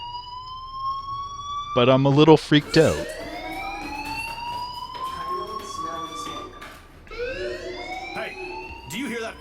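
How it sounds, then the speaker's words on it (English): A fire alarm rings in the Life Is Strange video game, a steady high electronic tone running through the whole stretch while a character talks over it nervously. "Hey, do you hear that fire alarm?"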